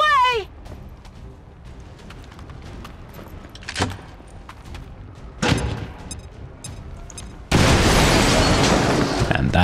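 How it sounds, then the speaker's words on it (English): A grenade explodes among a group of soldiers in the turn-based strategy game XCOM 2, with scattered game clicks and whooshes leading to a loud, sustained blast rumble at the end, heard close and without talk. "dropping a grenade on a bunch of soldiers"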